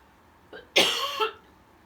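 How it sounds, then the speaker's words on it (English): A single person coughs once, close and fairly sharp, with a short throat sound just before it and quiet room tone around it. "I'm talking, so I'm coughing."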